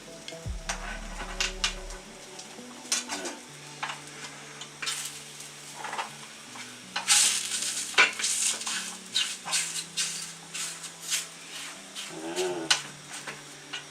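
A rolled chapati cooks in an oiled pan. Uneven sizzling bursts mix with light scraping and clattering against the pan as it is spun and turned, close by and moderately loud.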